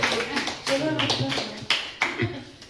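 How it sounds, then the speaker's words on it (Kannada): Applause from a crowd, including children, at an Independence Day games and prize event, with clapping in uneven bursts alongside chatter and kids' voices. "ಬರಿ ಜೋರ ಚಪ್ಪಾಳೆ ಬರಿ"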